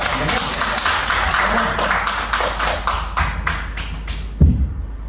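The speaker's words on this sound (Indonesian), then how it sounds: "sekali kita beri tepuk tangan" Students in a micro-teaching math class give a short round of applause, a lively patter of hand claps that thins out and stops, followed by a single thump and quiet room.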